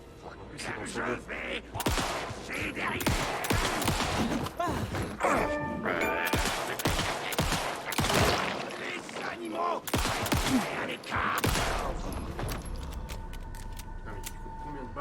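Gunfire in the horror video game Alan Wake II, repeated loud shots and crashing impacts scattered through the stretch, with people talking over the action.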